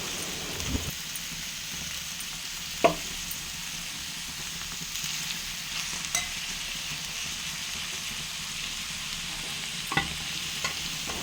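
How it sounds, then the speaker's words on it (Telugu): Ridge gourd curry cooking in a pan as sesame powder is stirred in, a soft continuous sizzle with an occasional knock of the spoon against the pan, steady and moderately quiet. "ఇప్పుడు ఇందులో నువ్వుల పొడి వేసేసుకుందాం నువ్వుల పొడి వేసుకుని మిక్స్ చేసేసుకోండి"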